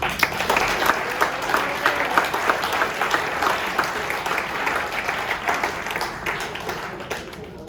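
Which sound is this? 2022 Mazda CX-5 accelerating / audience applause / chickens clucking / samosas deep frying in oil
audience applause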